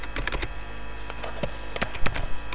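Rapid clicking of computer keyboard keys while entering a command in a Linux terminal, a quick irregular run of close, crisp taps with short pauses between bursts.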